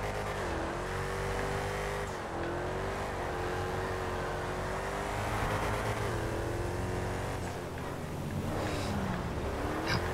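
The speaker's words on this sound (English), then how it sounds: "V8 tractor." A V8-engined tractor in the GTA FiveM racing game roars steadily and loudly, its revs rising and falling in long sweeps over about ten seconds with no talking.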